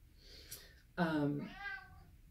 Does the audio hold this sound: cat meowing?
yes